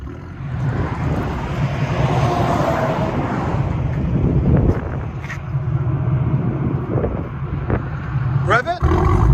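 A 2016 Chevy Camaro LT1 with a six-speed manual and straight-piped dual exhaust roars loudly and continuously up close, with a brief dip before the revving swells again, and voices briefly join near the end.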